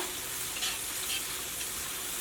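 Steady, loud sizzling and bubbling of sauce cooking over high heat in a pan for chicken fried rice, continuous with no voices.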